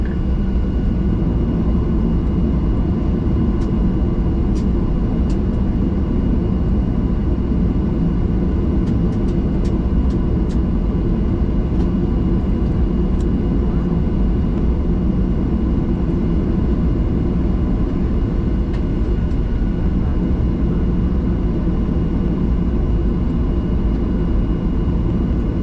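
An American Airlines Boeing 737-800 jet preparing for takeoff from Trinidad and Tobago gives a steady, loud engine roar and rumble, heard from inside the cabin and unbroken throughout.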